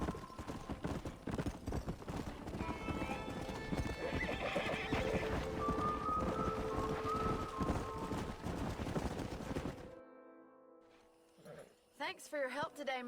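Horses in the Red Dead Redemption video game, with steady clip-clop of hooves and repeated neighing and whinnying, loud and close, followed by a quieter stretch with a few more calls near the end.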